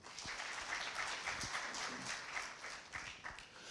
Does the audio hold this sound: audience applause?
yes